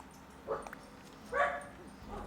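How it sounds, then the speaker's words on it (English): A dog gives a few short, whimpering yips and barks, two main bursts plus a softer one at the end, moderately close and alone against a quiet background. "That is my dog."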